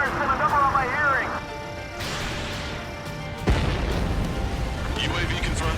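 Artillery fire booms in Ace Combat 7 during a tank battle, with heavy low rumbling blasts and a sharp thump partway through, under radio chatter.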